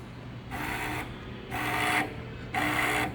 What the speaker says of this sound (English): let us see how the stepper motor runs for the given input signal